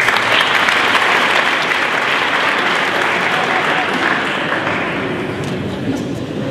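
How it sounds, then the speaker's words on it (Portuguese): A talk-event audience applauds as a speaker is introduced, loud, dense clapping that holds steady and tapers slightly toward the end. "Palmas para o Tomé."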